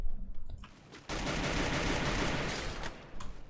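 Sustained automatic gunfire in a Free Fire or PUBG battle royale match, a dense burst of rapid shots lasting a couple of seconds after a few scattered sharper reports, loud and close with no talk over it.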